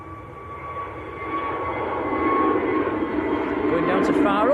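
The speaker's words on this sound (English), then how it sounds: "One of Jet2's new toys, A321neo. HLYJ, I think the reg is on this one. It's getting airborne." A Jet2 Airbus A321neo, registration HLYJ, takes off at Manchester Airport, its broad jet-engine roar steady and building in loudness as it climbs away.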